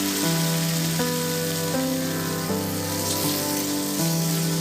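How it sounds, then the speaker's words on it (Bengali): Sliced okra fries in hot oil, the steady hiss of sizzling running continuously beneath a soft melodic music bed that changes notes every second or so. "এবার এগুলোকে ভেজে নেব একটু লাল করেই কিন্তু ভেজে নিতে হবে ভেন্ডিগুলোকে"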